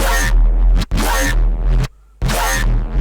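A muddy, boomy synth bass plays three long, loud notes with short near-silent gaps between them.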